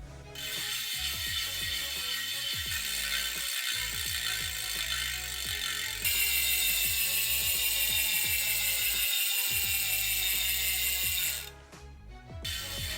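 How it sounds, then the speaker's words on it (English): A Winspace carbon bicycle wheel hub with a 36 tooth star ratchet freewheeling, giving a rapid, even stream of fine clicks that holds steady for several seconds, then stops abruptly; fairly quiet and alone, with no talk. "The hub is different from the last generation as well. It is the 36 tooth star ratchet."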